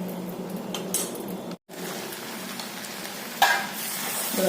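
Salted onion mixture stirred in a pan, a steady soft sizzle with scraping and light clinks of a spoon against the metal, broken by a brief silent gap and a sharper clatter near the end.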